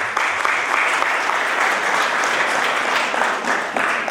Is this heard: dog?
no